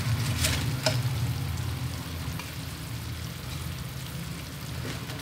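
Fried green banana pieces stirred over low heat in a pan of boiling sugar syrup, giving a steady close bubbling sizzle with a few light scraping knocks early on and a low hum underneath.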